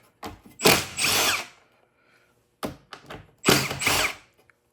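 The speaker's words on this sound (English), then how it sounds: "we're going to remove the lower section by taking out this bolt and this bolt" A power tool whirs in two short bursts while taking bolts out of the lower section of a John Deere MaxEmerge planter. Each burst is loud and close, with a clunk of handling between them and no speech.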